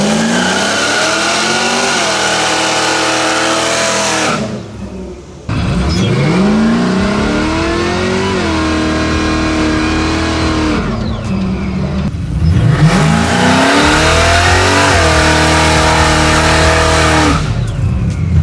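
A 1984 Chevy Monte Carlo SS with a 700+ horsepower engine revs hard, drops out briefly, then roars off and accelerates in loud, sustained surges with faint tire squeal, close and alone with no talk.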